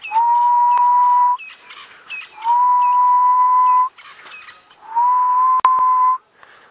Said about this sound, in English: Beautiful grey-headed bush shrike.